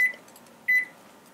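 An IH induction cooktop timer beeps while pho noodles boil, two short electronic tones, the second louder and longer, over a faint background.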